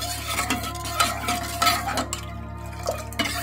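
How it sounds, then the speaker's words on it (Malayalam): A spoon stirs milk for Ambalapuzha palpayasam in a heating pot, with repeated close scraping and clinking strokes against the metal over a low steady hum. "അപ്പോൾ ഇതൊന്ന് നന്നായിട്ട് ചൂടാകുന്നതൊന്ന് ഇളക്കാം."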